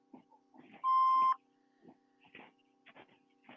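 A single steady electronic beep from an answering machine, lasting about half a second, with faint voices murmuring before and after it.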